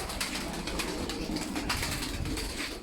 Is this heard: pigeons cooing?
yes